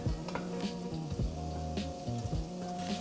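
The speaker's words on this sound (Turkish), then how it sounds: "Soğanlarımız böyle hafif kavruluyor." Onions sweat gently in olive oil in a pan, giving a steady, close sizzle with faint stirring and utensil clinks throughout, and no talk.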